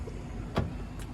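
A Toyota C-HR Hybrid 1.8 Sol unlocks keylessly with one short, soft mechanical clunk from the door lock in a quiet setting, followed by a fainter click a moment later.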